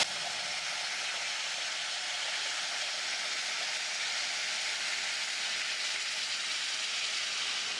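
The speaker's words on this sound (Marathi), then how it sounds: "आता आपण हा गुळाचा हा पाक आपण वरईत घालू। कढईत पाक ओतताना जपूनच ओतायचं" Hot jaggery syrup poured into roasted barnyard millet in a hot kadhai, producing a steady loud sizzling hiss that continues evenly without pause and without any talking.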